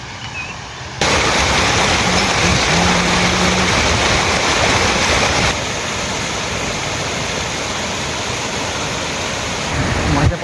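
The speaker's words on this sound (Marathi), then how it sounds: "माझ्या पाठीमागे आपल्याला पाणी वाहताना दिसत आहे" Water pours out of a dam gate pipeline into a riverbed with a loud, constant roaring rush that drops slightly in level partway through, heard close up.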